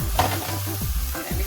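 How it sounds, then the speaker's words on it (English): Pan of ackee and plantain stir-fry shaken on the heat: a steady close sizzle with soft sliding and stirring swishes of food moving across the pan, brief and without talk. "I'm going to shake the pan"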